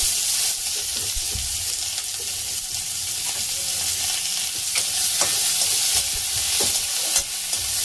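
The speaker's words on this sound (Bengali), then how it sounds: "দিয়ে দিচ্ছি পেঁয়াজগুলো।" Onions sizzle and crackle steadily in hot oil in a pan while spiced semolina upma is cooked, a close, continuous frying hiss with occasional sharper pops and stirring clatter, no voices.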